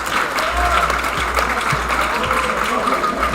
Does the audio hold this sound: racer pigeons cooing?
no